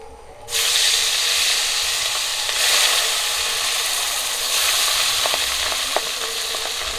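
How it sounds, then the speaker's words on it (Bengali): Pabda fish frying in oil, a loud continuous hissing sizzle that jumps up after a brief quieter start, with a few light utensil clicks near the end, close and steady. "আর বাকি আছে 3টে মাছ ভাজার"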